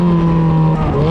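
A 2006 Ferrari F430, from the model's first year, runs its engine loud and close in a smooth, continuous drone with strong tonal harmonics and a slight pitch shift near the end.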